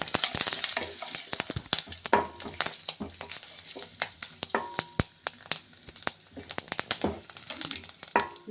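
Dried red chillies and asafoetida sizzle and crackle in hot oil for a Chettinad idli sambar tempering, with steady frying hiss and sharp pops, plus occasional stirring scrapes close up.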